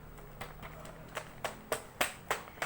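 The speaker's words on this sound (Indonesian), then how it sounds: "Mari kita beri tepuk tangan kepada kelompok 1." A few people in a microteaching classroom clap for a student group, sparse individual claps that grow louder and more spaced toward the end, in a quiet room.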